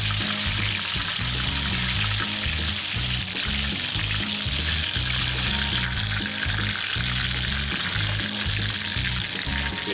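Chicken fried steak frying in a cast iron pan, a dense, constant crackling sizzle of oil close up, loud and unbroken with no voices.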